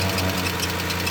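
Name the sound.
car engine valve lifter tapping noise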